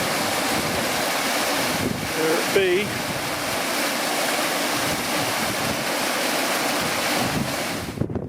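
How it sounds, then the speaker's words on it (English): A Dartmoor waterfall gives a steady, loud rushing roar throughout, mixed with gusting wind buffeting, and a short spoken remark partway through. "Okay, I found the waterfall,"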